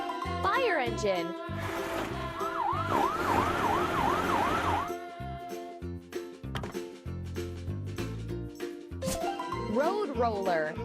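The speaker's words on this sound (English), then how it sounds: "Fire engine." Fire engine siren in a children's cartoon: a loud, rapid wailing tone pulses over background music and effects, then drops away into rhythmic music.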